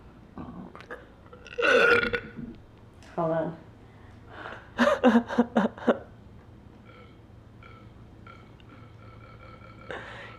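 Several loud burps ring out between short bits of speech, one long drawn-out belch followed by a rapid string of shorter ones.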